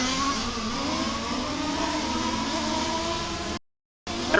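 Race cars at the Warm Springs track during a RAMS WCC event whine and rev in a sustained, fairly loud engine drone, cutting briefly to silence before the noise resumes.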